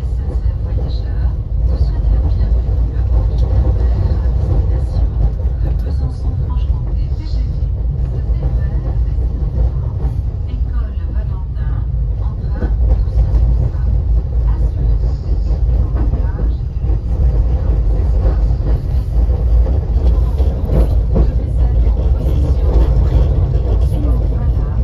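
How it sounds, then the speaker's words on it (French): A TER regional train pulls away from Besançon, giving a loud, steady rumble of wheels and running gear that continues without a break for the whole stretch. "je prends le TER à Besançon"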